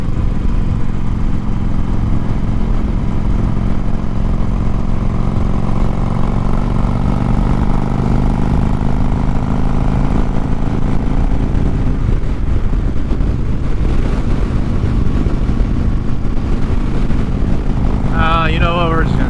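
Motorbike engine droning steadily while riding along mountain switchbacks, a loud continuous hum with a slowly rising pitch, joined late by brief chirping sounds.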